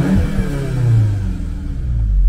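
A 2020 Volkswagen Golf engine revs hard and close to about 5,000 RPM, a loud low rumble that rises and falls in pitch, with no one speaking.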